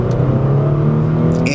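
A 2014 Mercedes-Benz E350 AMG Sport coupe's engine hums steadily from inside the cabin as it accelerates, a smooth, muted drone that holds even throughout.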